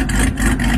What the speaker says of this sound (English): every time I start it, it has a chop to it.